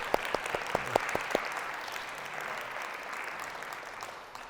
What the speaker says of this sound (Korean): 옆에 분 전도사님 잘 오셨다고 환영의 박수 한번 쳐주시고.